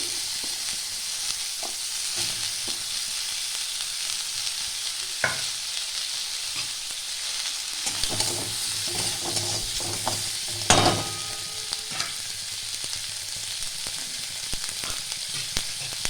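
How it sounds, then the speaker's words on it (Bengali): Steady frying sizzle of chopped onions in butter in a pan with occasional scraping and stirring clatter, close by, no voices. "এটা একটু হালকা করে ভাজা হবে।"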